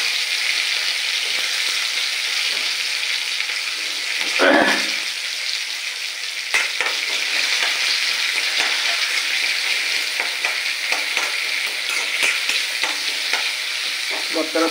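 Onions and curry leaves fry in a pan of hot oil for a raw fish curry, giving a steady close sizzle with occasional scraping stirs running throughout.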